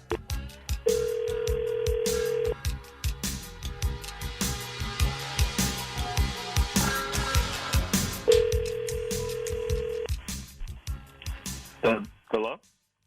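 An outgoing phone call rings on a radio show line: steady ringback tones sound twice at mid volume, a long tone early on and another later, with studio talk continuing over and between them.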